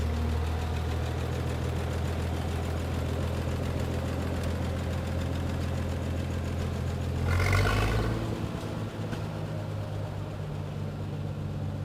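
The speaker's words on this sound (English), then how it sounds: "it's neat to bring that old tractor back. Being propane, it sounds really quiet, but it has a lot of power" A steady, low propane-fuelled old tractor engine idles and putters throughout with a soft, quiet rumble, briefly swelling louder around the middle before settling back to an even drone, at an old-iron parade in Fredonia, Kansas.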